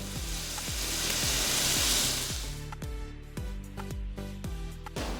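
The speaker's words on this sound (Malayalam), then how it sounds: "ഇതിലേക്ക് നമുക്ക് സ്റ്റീം ചെയ്ത് വെച്ച എഗ്ഗ് ആഡ് ചെയ്യാം." Steamed eggs frying in a pan of masala with a loud, steady sizzle, joined in the second half by a series of clinking utensil taps against the pan, without any talk.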